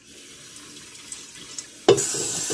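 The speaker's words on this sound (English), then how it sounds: "It's fun washing this giant sheet pan in my sink" Low room hiss gives way to a sudden loud gush of tap water running into a home sink while a giant sheet pan is washed, steady and close.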